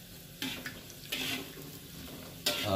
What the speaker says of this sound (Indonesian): karena kita sering aduk-aduk gini ya. Jadi makanya usahakan apinya kecil-kecil.